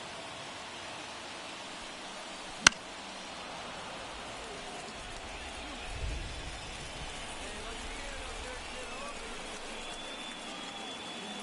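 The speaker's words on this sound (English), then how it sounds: "the field's not going to be able to hold up if the rain gets any worse than this" Steady rain on a baseball field during a game, with the infield and pitcher's mound starting to puddle: an even, hissing wash of rainfall throughout, a single sharp click early on and a soft low rumble midway.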